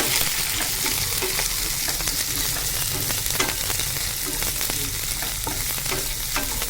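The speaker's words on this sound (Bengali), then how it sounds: "এবার আমি এর মধ্যে আবার দিয়ে দেবো চিংড়ি মাছ।" Small local pond prawns sizzle and crackle steadily in a hot pan, a dense, close frying hiss broken by occasional stirring scrapes, with no voices.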